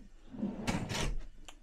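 Kitchen drawers in the galley of a 2003 Intrigue 40-foot boat slide and knock shut in a couple of quick, fairly quiet wooden thuds, close by with no talking.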